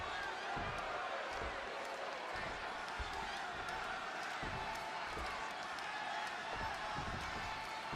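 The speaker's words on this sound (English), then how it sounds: "just listen to this crowd here in Chicago" A packed Chicago arena crowd roars steadily in a WWE 2K26 wrestling match featuring CM Punk against Eddie Guerrero, a dense constant wall of cheering with scattered thuds and claps beneath it.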